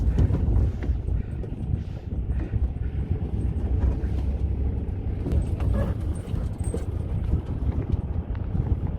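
Riding as a passenger in a vehicle near Chushul Merak by Pangong Lake in Ladakh, with a steady low engine and road rumble and buffeting wind noise throughout, no talk.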